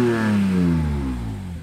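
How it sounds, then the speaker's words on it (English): A BMW E46 M3 engine revs with a deep exhaust tone, one close, loud, sustained rev whose pitch slides gradually downward and fades slightly at the end. "The tone of that exhaust, very deep."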